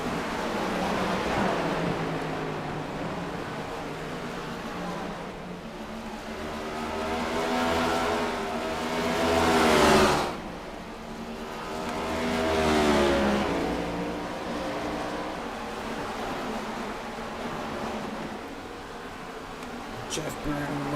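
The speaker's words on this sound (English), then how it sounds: "See as the cars make their way into turn 3, Richard Petty" Stock cars racing at New Hampshire Motor Speedway in the iRacing sim, engines droning and swelling as a pack passes, peaking loudly then easing, under steady commentary.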